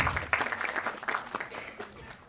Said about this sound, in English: Let's keep the applause going as we honor them